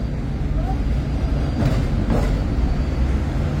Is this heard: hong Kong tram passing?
yes